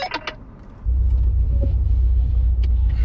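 A Hyundai Elantra switching into sport mode before a drag race, a brief rustle and click inside the cabin, then a deep, close engine rumble that swells and holds steady.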